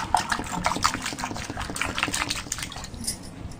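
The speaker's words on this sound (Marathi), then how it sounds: "बटाटे शिजतील एवढं मी पाणी ओतून घेणार आहे" Water pours and splashes into a pot holding potatoes for boiling, a steady stream, with liquid gurgling and a few light clinks.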